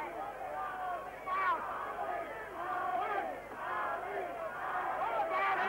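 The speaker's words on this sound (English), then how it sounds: "the chants of the crowd now" Boxing crowd chanting in rhythmic waves at a 1981 Muhammad Ali versus Trevor Berbick heavyweight bout, loud and sustained, the massed voices swelling and falling across the arena.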